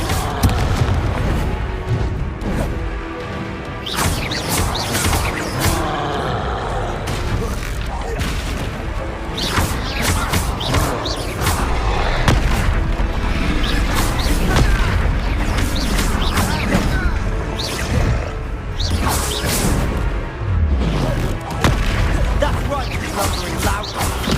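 Spell explosions in the video game Hogwarts Legacy, repeated booms and crashing bursts over a loud, dense battle soundscape with music and voices throughout.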